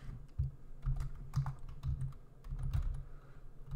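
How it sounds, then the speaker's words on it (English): Typing on a computer keyboard, a quick irregular patter of soft close keystrokes continuing throughout without voices. "let me just type that out"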